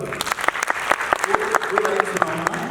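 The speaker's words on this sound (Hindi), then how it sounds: "तालियां बजाओ।" Audience applause at an arts and literature festival in Raipur after a folk bhajan performance, a round of distinct, close handclaps in an uneven rhythm, with a voice speaking briefly over the clapping.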